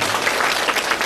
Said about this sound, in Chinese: 我希望呢你们给他们点掌声的鼓励鼓励